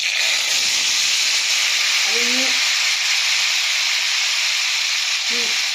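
Beans and potatoes, coated in salt and turmeric, hit hot oil seasoned with radhuni and dried chillies in a home kitchen, giving a loud steady hiss and sizzle that runs through the whole stretch with no talk.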